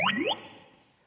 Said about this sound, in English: so it's just a synthesized sound, which sounds like this.